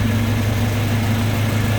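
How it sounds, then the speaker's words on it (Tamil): A Mitsubishi Lancer's engine running at a steady idle, a constant low droning hum with a smooth, even tone, close and fairly loud, no voices. "வண்டி ஓடிட்டு இருக்குது."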